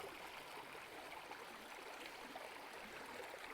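A desert stream on a wilderness hiking trail flows steadily, a dense continuous rushing and trickling wash of water, close and even with no talk over it.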